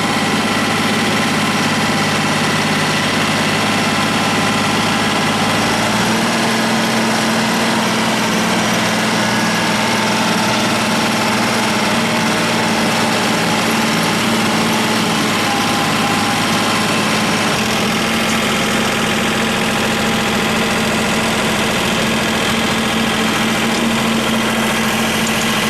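A John Deere 1050 tractor engine idles steadily, a loud, constant mechanical drone with an even throb that runs unbroken the whole time, with no talking.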